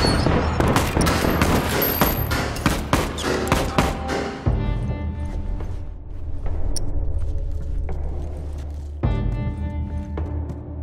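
Rapid rifle gunfire from The Last of Us, a dense burst of close, loud shots in the first four seconds, then scattered single reports and booming echoes with a low rumble beneath.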